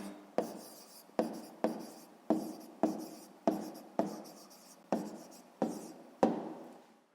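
A pen writes on paper in nine distinct scratchy strokes, each a short rasp that fades out before the next one, close up and quiet, with no talk.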